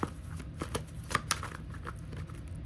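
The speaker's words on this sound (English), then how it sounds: "Let's shuffle this one time." Soft riffling and slapping of tarot cards being shuffled up close, a few crisp snaps over a quiet background.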